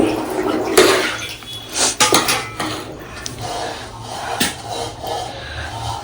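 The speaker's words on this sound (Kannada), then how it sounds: "ಸ್ವಲ್ಪ ಮಿಕ್ಸ್ ಮಾಡ್ಕೊಂಡು ನೀರು ಹಾಕೊಂಡು ಮಿಕ್ಸ್ ಮಾಡ್ಕೊತಾ ಇದ್ದಾರೆ" Curd rice is mixed with added water in a metal vessel by hand, giving irregular clinks, scrapes and wet sloshes at close range, with a few louder knocks of metal against metal.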